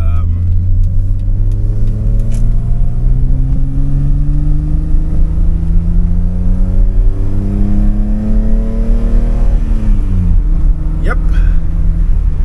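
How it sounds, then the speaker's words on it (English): A BMW E30 drives past, its engine note climbing and falling in a steady loud hum with rising gear-like pitch sweeps, close and continuous. "here it is, cars driving nice"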